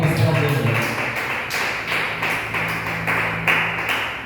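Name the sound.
congregation clapping hands for Jesus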